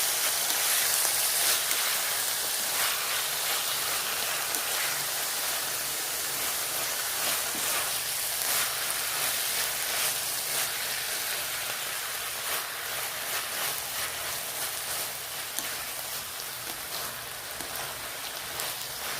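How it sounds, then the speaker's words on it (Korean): Seasoned, marinated beef stir-fries in a pan for japchae, giving a loud, continuous hissing sizzle that stays steady throughout, with no talking. "간을 해갖고 재워놨다가 지금 이제 볶는 중이에요"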